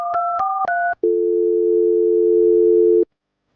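A telephone line sounds three short two-tone beeps, then a single long steady tone that stops abruptly, clear and close with no voices.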